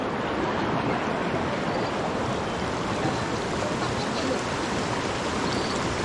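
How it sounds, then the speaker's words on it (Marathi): A swollen, brimming river in dense forest rushes past in a steady, loud broadband roar that holds constant throughout, with no breaks or talk. "नदी किती भरून वाहते बघा ना"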